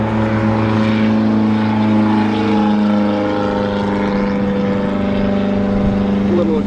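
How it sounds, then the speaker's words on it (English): Ford wagon engine idling with a massive exhaust leak, a loud steady droning rumble with a raspy, buzzing tone that holds constant throughout. "little Ford wagon action with a massive exhaust leak"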